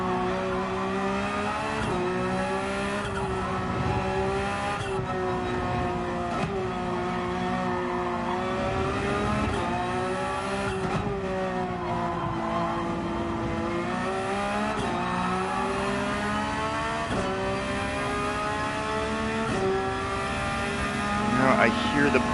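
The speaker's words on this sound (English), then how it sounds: "You hear the motor, it just has no will to do anything." A Porsche race car engine in Gran Turismo 7 drones steadily with a bogged-down, sluggish tone and wavering pitch, holding a continuous mid-level hum throughout with a brief lift near the end.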